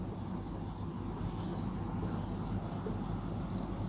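A pen writes out an answer on paper during a Sanskrit lesson, giving a steady, close scratching that runs continuously with brief rhythmic strokes and no talking.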